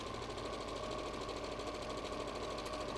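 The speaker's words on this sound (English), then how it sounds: "what you then want to do is sew about a quarter of an inch away from that previously sewn line." A sewing machine sews a quilt seam with a continuous rapid clatter at an even speed, close and steady through the whole stretch, with no voice over it.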